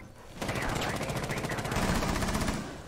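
Rapid automatic gunfire in a Rainbow Six Siege esports match, a dense sustained burst of shots starting abruptly and rolling on steadily at close range, with faint commentary mixed underneath.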